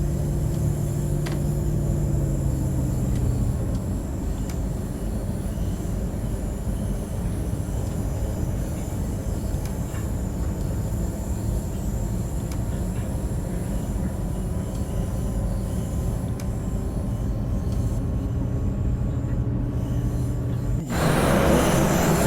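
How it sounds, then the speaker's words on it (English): A DB BR 612 diesel multiple unit in the Train Sim World 2 video game drives along, giving a steady rumbling engine drone and rail noise for over twenty seconds, with a brief surge near the end. "Oh, the noise when you're driving from the outside. Oh, it's amazing."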